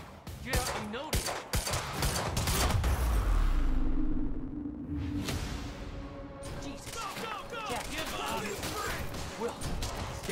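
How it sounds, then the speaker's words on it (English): Gunfire in the Quantum Break video game, a burst of sharp shots followed by a roaring crash and scattered later cracks, mixed with shouting voices throughout a chaotic firefight. "Stop fucking shooting at us!"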